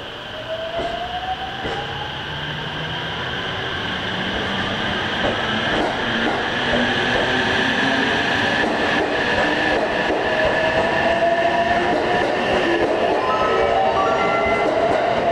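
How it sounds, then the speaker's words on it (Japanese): A six-car Kuroshio limited express train pulls away from Tennoji Station's Hanwa Line platform with a steady, building rumble, wheels clattering and faint metallic squeals rising over the noise, loud and close throughout. "1番乗り場から特急黒潮33号和歌山行きが発車します。"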